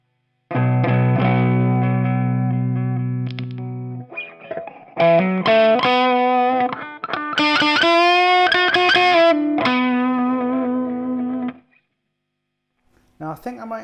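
Electric guitar with humbucker pickups played through a Dallas Scala tube amp, loud and distorted, with sustained chords and bends separated by brief pauses.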